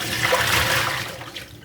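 Hot water from descaling a Keurig K Supreme being poured out, a steady splashing gush that is loud and close, tapering off toward the end with no talking.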